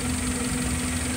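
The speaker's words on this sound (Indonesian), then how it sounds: "Suaranya hanya suara injektor saja. Suara mesinnya tidak ada." A car engine idling smoothly at about 700 to 800 RPM after a tune-up, with fuel injectors ticking faintly over a steady low hum and a constant whine, recorded close up with no talking.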